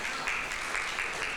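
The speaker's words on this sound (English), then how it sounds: "We can give them a round of applause" An audience at a youth substance-use support event gives a round of applause to event planners, a brief, even spread of many hands clapping at moderate level, without clear talk.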